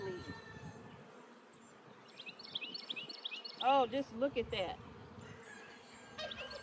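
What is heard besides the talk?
honeybees buzzing on a hive frame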